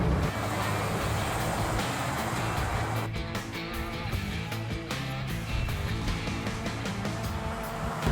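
Classic car with a Rocket 304 engine idling smoothly, a steady low rumble from inside the car that runs evenly throughout, with some faint rattles and clicks over it in the second half.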